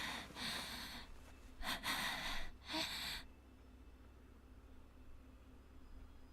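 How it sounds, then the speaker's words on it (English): Heavy panting close to the ear in the Chaos;Child visual novel, four or five breathy gasps in quick succession, loud and intimate, then fading to a quiet hiss. "I heard panting in my ear."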